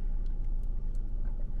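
A car arriving outside a house, a low steady engine rumble idling nearby for a couple of seconds with no voices.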